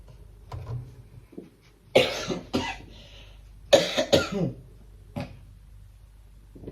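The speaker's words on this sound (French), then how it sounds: "Excusez-moi mes amis, j'ai eu une petite toux là." A person coughs several times in short, harsh bursts, two clusters close together, with a quieter cough at the end.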